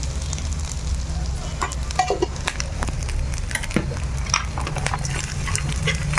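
Ingredients fry in hot oil in a pan for moringa leaf pulihora, a continuous close sizzle with scattered crackles and pops that stays fairly loud throughout.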